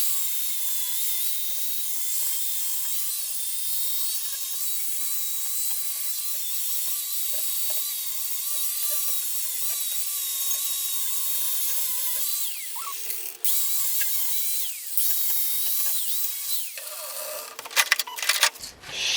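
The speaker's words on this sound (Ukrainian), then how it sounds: "І у нас офігенний дремель." A Dremel rotary tool cleans an e-bike frame, producing a steady high-pitched whine that runs throughout, shifting pitch slightly near the end as the tool contacts the metal. No one talks.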